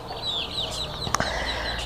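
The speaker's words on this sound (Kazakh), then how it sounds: "Достар, енді сіздермен бірге тауық қораға аттанамыз." Chickens cluck inside a coop, a cluster of close, repeated clucks and short squawks over a steady low background, with one sharper call standing out near the middle.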